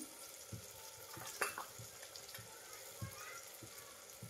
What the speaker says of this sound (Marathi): कांदा परतून झालाय, आता यामध्ये टोमॅटो परतून घेते मी।